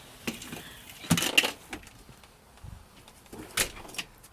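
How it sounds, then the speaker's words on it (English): A door is pulled shut outdoors at a house decorated with a holiday wreath, giving a couple of soft thuds and latch clicks among faint handling sounds, fairly quiet with no talk. "I'm going to pull the door shut."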